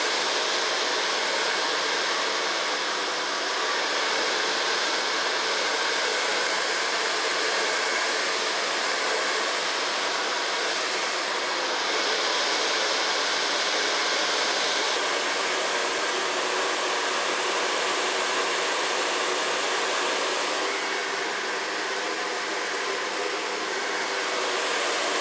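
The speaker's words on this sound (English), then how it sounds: "So far blow drying." A hair dryer blow-dries a woman's short hair in a salon with a steady, loud whooshing hum for about twenty-five seconds, its pitch shifting slightly as the airflow moves, with no talking.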